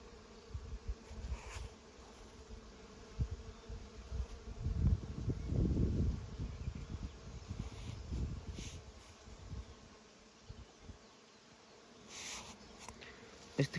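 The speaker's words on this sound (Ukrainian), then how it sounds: "Слухайте, як бджоли годуть." Bees buzz steadily outdoors over flowering rapeseed fields, a humming swarm that swells louder for a few seconds in the middle, then eases back.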